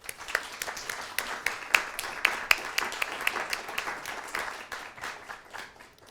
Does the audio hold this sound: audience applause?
yes